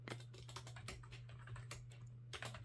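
Quick keystrokes on an iMac keyboard while a password is entered, a faint, close patter of soft clicks in uneven bursts over a low steady hum, no voices.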